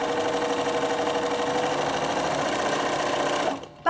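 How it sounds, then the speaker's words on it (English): A sewing machine runs steadily for nearly four seconds, stitching ribbon into a gift bag, with a continuous whirring hum before it stops abruptly near the end. "I'll make sure I sew these ones correctly"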